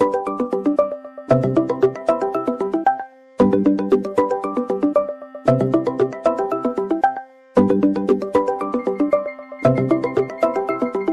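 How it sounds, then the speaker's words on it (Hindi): A phone ringtone plays loudly and repeatedly, a bright melodic phrase repeating in bursts with short pauses between them. "किसका फोन आ रहा है बार बार?"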